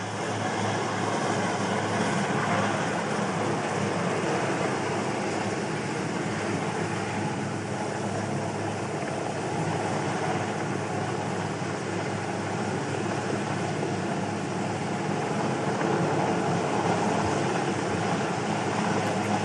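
A helicopter hovers during a naval commando exfiltration demonstration at a Navy Day celebration. A loud, constant rotor and engine roar fills the whole stretch without letup, close and steady.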